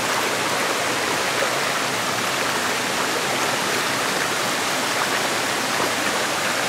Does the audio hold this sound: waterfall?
yes